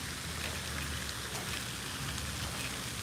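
Light rain falls outdoors on an early-morning bass fishing outing, a steady, even patter and hiss that holds constant for a few seconds with no voices.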